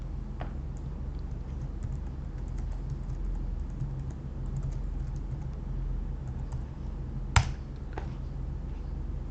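Keys tapped on a computer keyboard while entering an email address, faint rapid clicks over a steady low background hum, with one sharper click near the end.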